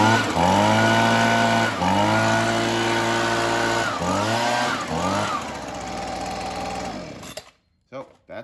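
A 2011 Husqvarna 125b leaf blower, fitted with a new carburetor and tune-up kit, runs loud and close at a steady two-stroke idle with brief throttle changes, then cuts off abruptly, leaving a few faint clicks.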